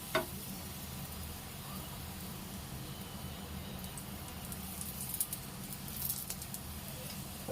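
Oil sizzling around a wheat flour bhakri frying on a pan, a faint, steady crackling hiss that runs continuously with a few small pops.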